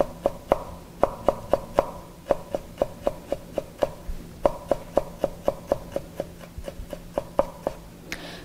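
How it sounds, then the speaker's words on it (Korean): Knife slicing garlic into thin julienne strips on a cutting board, a steady run of close, crisp taps in quick bursts with short pauses, no talking. "손으로 마늘이 움직이지 않도록 잡아준 후에 채를 썰어줍니다."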